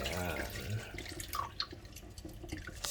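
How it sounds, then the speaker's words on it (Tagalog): Rinse water is poured out from a pot of mung beans, a faint, quiet trickle and splashing of liquid with soft drips throughout. "Tapon natin yung tubig."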